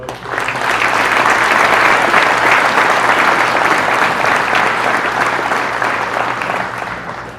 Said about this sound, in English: How about one more round of applause for our valedictorians?